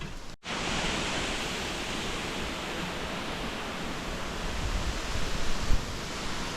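Maral Waterfall in Borçka, Artvin, a tall cascade dropping about 63 metres, gives a loud, steady broadband roar of falling water close by, briefly cut at the start and then continuing unbroken with slight swells.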